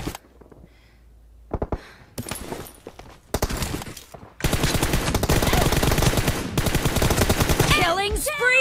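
Automatic gunfire in a team deathmatch video game battle: scattered shots at first, then a loud, sustained stream of rapid machine-gun fire for the second half, with voices at times.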